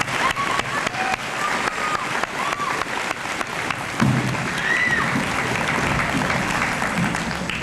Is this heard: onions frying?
no